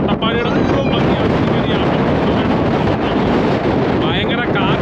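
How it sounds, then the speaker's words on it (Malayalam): Strong wind blasting across a hilltop in Attappadi above the Bhavani river, a loud continuous roar buffeting the microphone with rumbling gusts throughout, and a voice speaking faintly beneath it. "ഭയങ്കര കാറ്റാണ്, ഭയങ്കര കാറ്റ്, മനുഷ്യനെ പറന്നുകൊണ്ട് പോകുന്ന കാറ്റാണ് ഇവിടെ."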